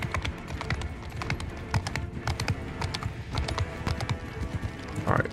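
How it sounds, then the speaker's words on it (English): Cavalry horses gallop in a Mount and Blade 2 battle, a dense irregular clatter of hooves with sharp impacts running throughout at moderate loudness. "Well, they've sent their horse in."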